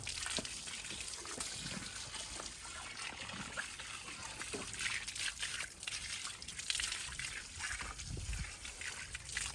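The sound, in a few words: water running while washing buffalo hooves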